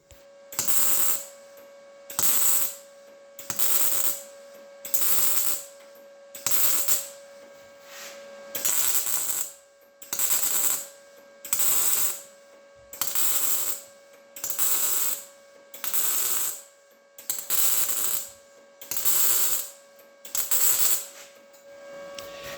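Welding along a rusted car body panel in short, evenly spaced bursts of crackling hiss, each lasting about a second with regular gaps between them, over a steady faint hum, close and loud, with no voices.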